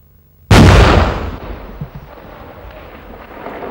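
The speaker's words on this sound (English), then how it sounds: "a target practice round was fired at a prior generation tank" A 106mm recoilless rifle fires a target practice round at an older-generation tank: one sudden, very loud outdoor boom followed by a long rumbling decay that fades into low background noise.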